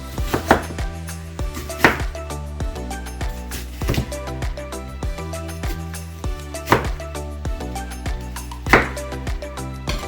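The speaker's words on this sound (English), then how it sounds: "Let's start chopping away." A knife chops onion on a cutting board in a steady series of sharp, close knocks, while a low background hum continues.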